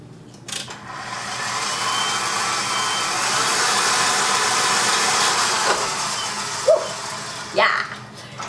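An electric mixer whipping lemon American buttercream, a steady loud whirring hum that starts abruptly and runs for several seconds, with brief speech near the end as it winds down.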